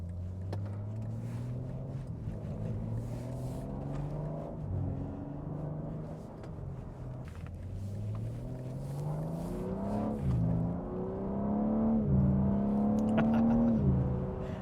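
A BMW M3 xDrive (G80) engine drones and revs repeatedly, its pitch climbing and falling in waves, loudest near the end, with no talking.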